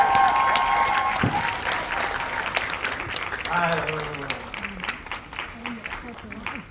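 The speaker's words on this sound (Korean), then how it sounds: "큰 박수로 쳐주시기 바라겠습니다." Theater audience applause greets the cast of the musical Secretly Greatly The Last at its closing-performance stage greeting; loud clapping starts the clip and gradually thins, with voices and a brief exclamation heard over it.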